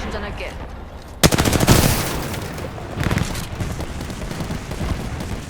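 A sudden burst of rapid automatic gunfire in the Apex Legends video game, followed by further scattered bursts and shots, loud and close, with a voice faintly underneath.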